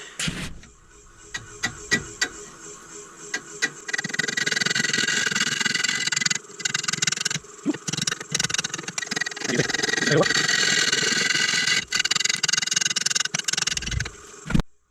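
A wood lathe spins at about 200 RPM while a bowl gouge rough-turns a wooden bowl blank, giving a steady, loud whirring cut with bursts of harsh scraping. A brief pause breaks it midway, and the cutting continues close by, on its own.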